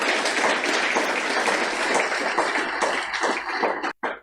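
A crowd at a speech gives a full round of applause, dense clapping that carries on steadily before thinning near the end and cutting off abruptly.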